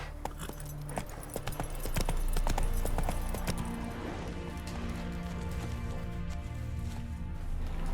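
A horse's hooves clip-clop at a steady trotting rhythm in The Witcher 3, close and moderately loud over a low rumbling background.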